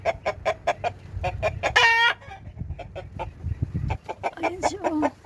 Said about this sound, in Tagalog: Laki ng chicken.